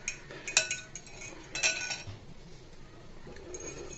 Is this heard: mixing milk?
yes